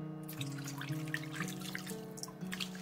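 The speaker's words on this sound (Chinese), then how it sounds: "抓拌好以后，我们加入清水" Clean water is added to floured chicken pieces in a bowl, making a quiet trickle with soft drips and splashes that runs steadily for a few seconds.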